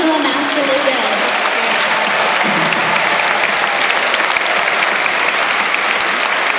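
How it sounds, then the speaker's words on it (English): Audience applause for a guest speaker at a nutrition-plan presentation, a dense, loud, steady clapping from a crowd that fills the whole stretch, with faint voices underneath early on. "How about a big round of applause for Dr. Angela Mastalugas?"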